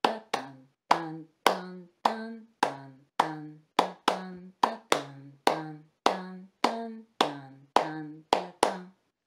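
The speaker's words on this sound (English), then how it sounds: "I want you to practice clapping the Montuno pattern." Hands clap the salsa montuno rhythm pattern, a close, dry series of about sixteen sharp claps in a steady, syncopated repeating pattern with brief gaps, heard alone.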